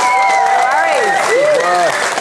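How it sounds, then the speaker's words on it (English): Studio audience applause for a guest on a television talk show, a steady, dense wash of clapping filling the whole moment, with sustained tones sliding through it. "give Jess another round of applause"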